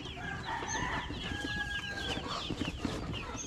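Forty-five-day-old chickens cluck and squawk busily close by while being put into their cage, with overlapping calls throughout.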